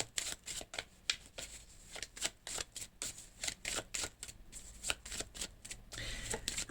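Tarot cards are shuffled close by in a quick run of crisp riffling flicks and soft slaps, fairly quiet, with no talking over them.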